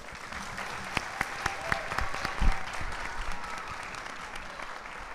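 Audience applause after a contestant's business pitch at a competition, sustained clapping from a seated crowd at moderate distance, with a few sharper individual claps standing out and a faint voice underneath.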